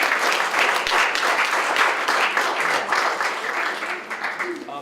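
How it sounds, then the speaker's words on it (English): An audience at a poetry reading event applauds for several seconds, a thick, even wash of clapping at close to moderate distance that tapers slightly near the end. "So a round of applause for all the friends here"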